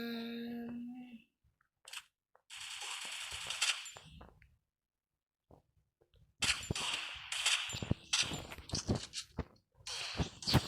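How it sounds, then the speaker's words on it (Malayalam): Bursts of video game gunfire while aiming for headshots, with sharp clustered shots and clattering impacts in two loud volleys separated by a quiet gap. "നമുക്കിനി ഹെഡ്ഷോട്ട് അടിക്കാം."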